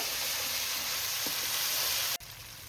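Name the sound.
frying and stirring spice paste (masala) in a pan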